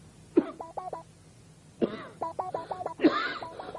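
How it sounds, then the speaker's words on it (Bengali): A man coughs in sharp bursts, three main fits within a few seconds, each a hard cough followed by rapid smaller hacks and throat clearing, close and fairly quiet, in a Bengali comedy drama scene. "যতই আটকাই কাশি ততই বাইরে আসে"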